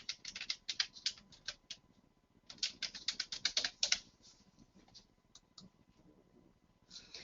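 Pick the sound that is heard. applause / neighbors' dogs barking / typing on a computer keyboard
typing on a computer keyboard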